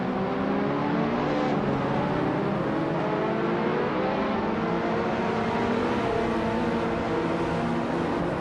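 1987 Ferrari F40 race cars roar around a track in a continuous, loud engine drone, with gear shifts and rising and falling revs layered over one another.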